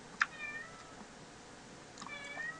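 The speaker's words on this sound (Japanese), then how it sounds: "にゃんちゃん、おはよう" A cat gives two short meows about two seconds apart, fairly faint and close, over quiet room background.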